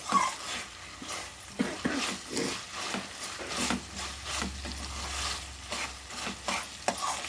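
Onions frying in a pan for pepper chicken give a close, continuous sizzle broken by rhythmic scraping strokes of a stirring spoon, with no talking.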